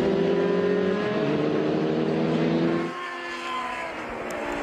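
Race cars in an SVRA Group 9 vintage race at Circuit of the Americas, a mixed field of cars squeezing into a turn, engines roaring loudly together before the nearest one pulls away and the sound thins to a more distant drone.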